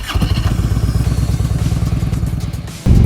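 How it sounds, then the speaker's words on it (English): Harley-Davidson Road King V-twin motorcycle engine runs close and loud with a rapid, lumpy pulsing idle, then a burst of throttle at the end. "the timeless roar of a V-twin carrying riders across highways that stretch for days"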